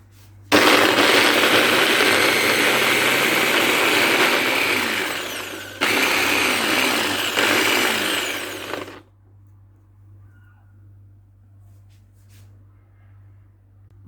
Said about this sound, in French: Et je vais encore mixer les ail.